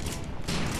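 Rapid minigun-like automatic fire from a weapon in the video game Loadout, a continuous dense burst that grows louder partway through, filling the short moment with no pauses.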